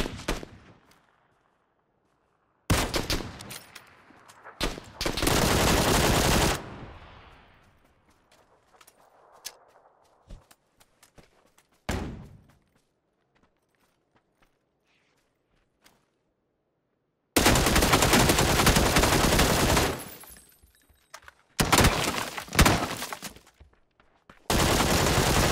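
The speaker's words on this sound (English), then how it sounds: "Gunfight of the century there." A PUBG gunfight with long bursts of loud, close automatic fire, broken by quiet stretches with scattered faint shots and footsteps, then more heavy sustained volleys toward the end.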